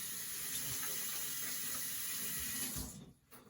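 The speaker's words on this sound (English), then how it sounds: "I'm gonna get my hands washed." Water runs from a kitchen tap for hand washing, a steady close hiss that stops abruptly near the end, with no talking.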